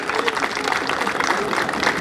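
An audience at an Indian centenary celebration breaks into dense, steady applause, a continuous wash of claps that stays fairly loud throughout the short stretch.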